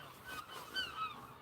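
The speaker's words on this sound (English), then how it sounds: "I think there might be a couple of seagulls about." Seagulls call by the sea during a fishing trip, giving a few short honking cries in quick succession, moderately distant over faint background noise.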